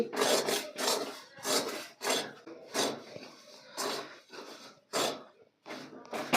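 Thick besan (gram flour) mixture for halwai-style laddu being rubbed and stirred by hand in a pan, a loud, close rasping scrape repeating in steady strokes roughly every half second with short pauses, no voices.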